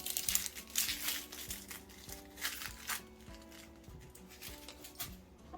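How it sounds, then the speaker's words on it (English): Outer skin being peeled off an onion by hand gives a run of close, dry crinkling and crackling bursts, strongest early on and then thinning into softer rustles. "We're going to peel this outer skin here."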